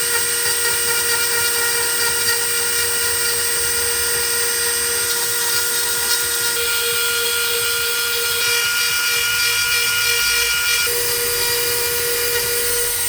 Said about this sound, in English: I use the Dremel on full speed